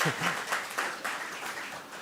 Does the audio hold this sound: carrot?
no